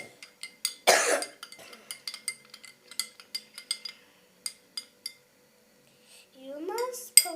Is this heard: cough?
yes